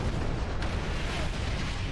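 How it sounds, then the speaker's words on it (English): A low, rumbling explosion in the space game Star Trek Online roars as a steady, faint blast of noise for about two seconds, with no voices. "I always fly into the explosion."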